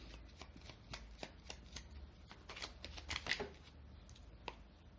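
A deck of oracle cards being shuffled by hand during a reading, a steady run of soft, close riffling flutters and slaps with a few sharper snaps near the end, no voices.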